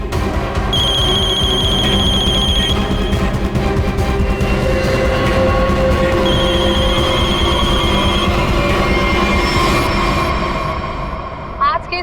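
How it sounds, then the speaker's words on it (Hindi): A telephone rings in two long electronic bursts, loud and near, over a busy background din. "Viren, pick up the phone."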